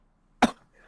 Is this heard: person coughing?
yes